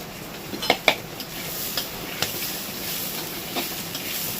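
Gobindobhog rice and sonamukh dal frying together with ginger and green chilli in a pan for khichuri, a constant close sizzle with a few clinks of the spoon against the pot early on.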